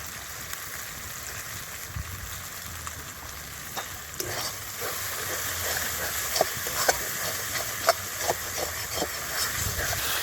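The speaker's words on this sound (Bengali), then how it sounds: "সামান্য জল দিয়ে দিচ্ছি, দিয়ে মশলাটা কষিয়ে দিচ্ছি।" Spice paste with a little water sizzles and fries steadily in a pan for goat intestine gravy, a continuous close hiss broken by soft scraping stir strokes, with no talking.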